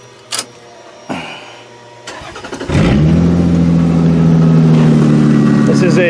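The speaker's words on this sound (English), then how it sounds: "this is a healthy sounding car" A few clicks and a starter crank, then an Avalon car engine with a bottom-end knock catches and settles into a steady, loud idle, close by.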